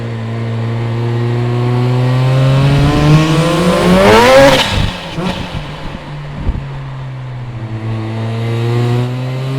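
Highly modified Mazda RX7 rotary engine revving on London streets, a sharp rising rev that peaks and drops with crackles, then settles back to a steady droning idle, loud and close.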